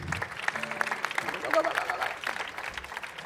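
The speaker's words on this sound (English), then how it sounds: "One final round of applause for Loot Ads," An audience at a startup venture day event in Madrid applauds, scattered moderate clapping from a crowd with a voice talking over part of it.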